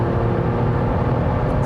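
Alfa Romeo Stelvio Quadrifoglio performance SUV at about 200 km/h, a loud steady engine and road roar inside the cabin, continuous and unbroken for a short stretch.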